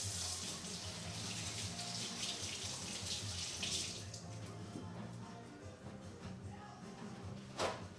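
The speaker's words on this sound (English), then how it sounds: "I'm gonna wash my hands first" Running tap water splashes steadily into a kitchen sink as hands are washed, a constant close hiss of flow that thins midway and ends with a brief clatter, no talking.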